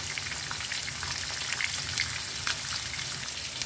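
A steady, close crackling sizzle of salmon frying in a pan, with small pops scattered throughout and no talking.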